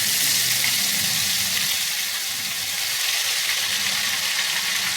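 Ghevar batter poured from a height into hot fat, giving a steady, loud, hissing sizzle that holds bright and even throughout with no voices.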